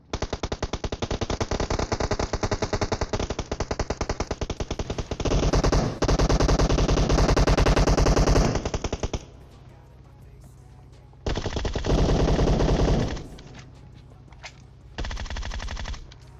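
Bursts of AKM rifle fire in PUBG Mobile: long rapid automatic strings, loud and close, broken by short pauses and later shorter volleys, with no talk.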